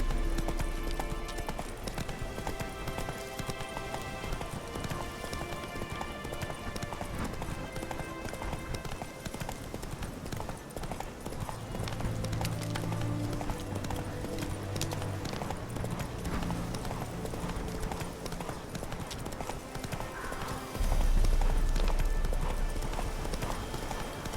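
Roach, the horse in The Witcher 3 video game, gallops with a steady, fast clip-clop of hooves that runs throughout, set against game music and ambience, with a heavier thump near the end.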